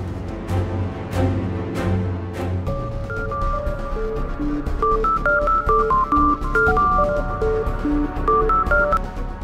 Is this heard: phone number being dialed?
yes